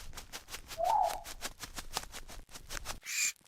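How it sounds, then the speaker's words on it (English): An owl hoots in the video game 99 Nights in the Forest as a series of soft, rhythmic calls over pulsing game sound, with a brief brighter effect near the end. "It was the night the owl showed up."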